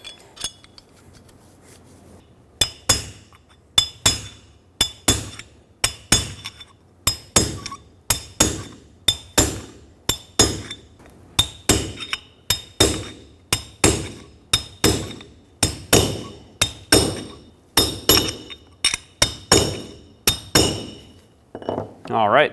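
A bearing's inner race being hammered into the rear hub of a 2011-2016 Ford F-350, with dozens of sharp, ringing metallic strikes at a steady pace, close and loud, with a brief pause early on.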